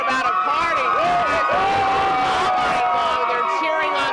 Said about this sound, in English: They're cheering on their team.